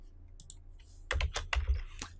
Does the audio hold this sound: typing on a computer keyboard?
yes